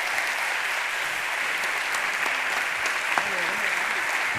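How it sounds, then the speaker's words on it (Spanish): Sustained audience applause from an indoor crowd at a biodiversity talk honoring a film director, steady and dense clapping throughout with no breaks. "Un fuerte aplauso para David Baute"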